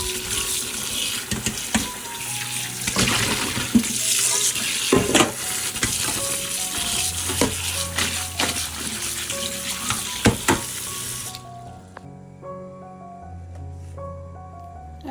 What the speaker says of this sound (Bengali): এই তো এখন বেগুনটাও ভালোভাবে ধুয়ে নেব।